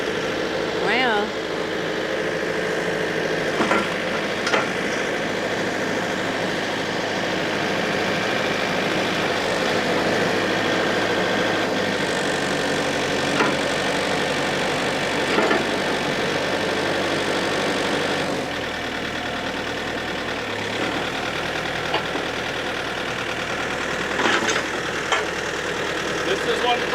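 A big farm tractor's engine idles nearby with a steady low drone and slight knocking texture, holding constant with a small shift in pitch partway through, while people talk over it.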